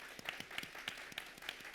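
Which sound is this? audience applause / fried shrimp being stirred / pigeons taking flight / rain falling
audience applause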